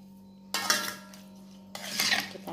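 Squid and salt are stirred in a metal pan, giving two bursts of scraping, clattering utensil strokes against the pan over a steady low hum.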